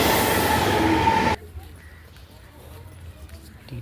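Rumble of a freshly painted old passenger train, loud and broadband for the first second and a half, then cutting away to a much quieter low hum with faint background sounds.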